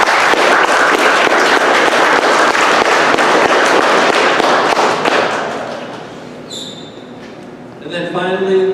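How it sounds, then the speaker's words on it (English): Loud applause from an audience at a performance academy convocation, a dense burst of clapping that fades out after about five seconds and leaves a quiet room, followed by faint voices and rustling. "please give him a solid round of applause."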